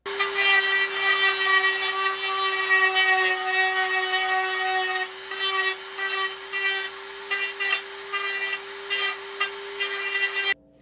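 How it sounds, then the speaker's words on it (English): A Dremel rotary tool grinds and smooths the edge of plastic Stormtrooper forearm armor, a loud steady high-pitched whine that wavers as it bites the edge and stops abruptly at the end. "we're just going to use the Dremel to even that out to a nice smooth line."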